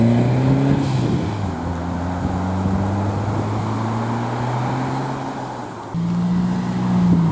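A Ford Cosworth drives past at a Ford RS owners' gathering, its engine a steady droning tone that rises in pitch, loud and close over broad road and crowd noise.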